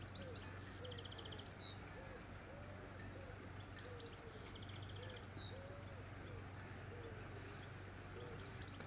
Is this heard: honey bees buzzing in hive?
no